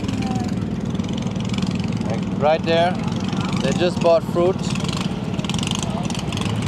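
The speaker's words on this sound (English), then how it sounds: "It's very noisy. We're around surrounded by a lot of boats." A steady low engine drone from many boats runs throughout at a floating market in the Mekong Delta, Vietnam, while people chat over it.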